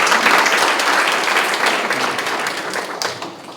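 Audience at a national senior revival meeting applauds, a loud, dense wash of clapping that holds steady throughout and thins slightly at the end.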